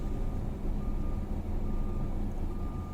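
Lorry reversing beeps in a street in Puerto de Mazarrón, a steady repeating tone over continuous loud engine rumble and traffic noise, with no talk.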